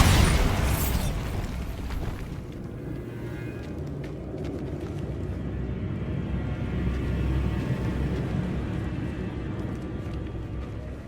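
A Bombarda spell detonates in Hogwarts Legacy with a sharp, loud blast at the start, followed by a long rumbling boom that slowly fades under steady game ambience.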